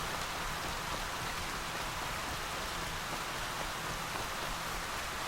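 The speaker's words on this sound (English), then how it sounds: "At least the rain don't do anything to you." Steady, even rainfall in the video game Horizon Zero Dawn: a constant hiss of drops on surfaces, moderately quiet and unbroken, with no talking.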